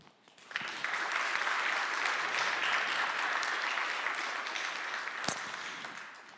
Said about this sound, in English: let's give a big round of applause for all of the staff members who worked tirelessly behind the scenes